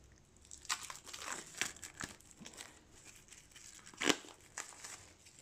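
Packs of event cards for the Maladum board game being unwrapped: close, crisp plastic crinkling with several sharp tearing bursts, loudest near the end, and no voices.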